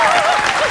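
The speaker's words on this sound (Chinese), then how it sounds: "你们先给小康老师掌声鼓励一下。" Dense audience applause for teacher Xiaokang on a festive Lantern Festival variety show stage, loud and continuous, with a voice briefly cutting through.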